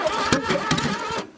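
An old Plymouth engine, buried and wrecked, cranks in a short burst of uneven starter strokes trying to catch, close and fairly loud, fading out at the end.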